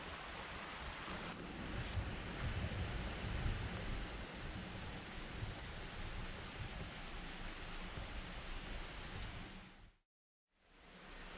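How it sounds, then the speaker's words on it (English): Rain falling steadily outside a cave during a thunderstorm, a dense broad hiss with low rumbling wash, fairly faint and continuous, cutting out briefly near the end. "The rain is picking up and I hear some thundering here and there"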